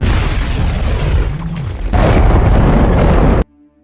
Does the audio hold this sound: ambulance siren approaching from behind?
no